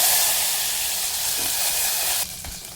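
Chopped vegetables and peeled beans sizzle in a hot oil tadka with crushed garlic, a loud, dense, steady hiss that drops off sharply near the end.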